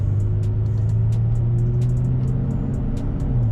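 The engine of a 2017 Toyota Tacoma pulls in second gear with a steady, loud, low drone and a rising hum heard from inside the cab, along with faint ticking clicks throughout.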